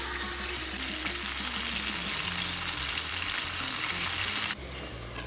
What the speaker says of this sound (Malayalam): 6 ഉള്ളി നന്നായിട്ട് വഴറ്റി ലൈറ്റ് റോസ് കളറാകുമ്പോൾ